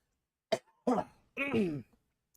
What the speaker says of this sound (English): I have the fucking hiccups and the coughs